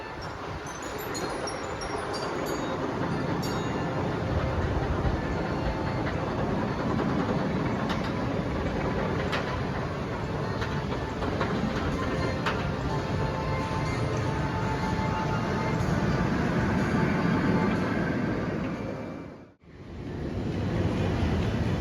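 A steady, loud rumble of a roller coaster test train, the Big Bad Wolf at Busch Gardens, running along its track, sustained throughout, with a brief drop-out near the end.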